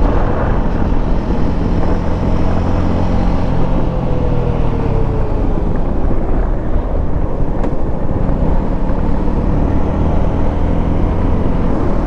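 A Suzuki V-Strom 250 SX motorcycle riding at about 100 km/h on a touring road, heard as a loud continuous engine drone buried in heavy wind rush, with a slowly shifting engine note throughout.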